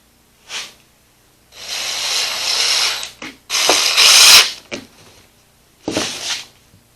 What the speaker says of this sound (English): So then I'll put my first screw right there.